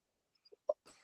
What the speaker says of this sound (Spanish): Disculpen con la tos.